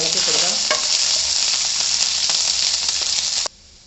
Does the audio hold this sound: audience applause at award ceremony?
no